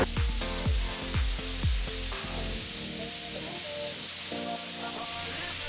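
A paint spray gun with a 1.3 tip lays a final clear coat over metal-flake low rider style paintwork on a board at about 27 to 29 PSI, a continuous hiss under some louder knocking sounds at the start.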